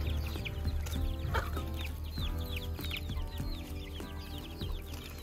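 Domestic chickens cluck repeatedly through a busy mix of other sounds during Tihar festivities in Udayapur, Nepal, with short calls scattered across the stretch at moderate distance.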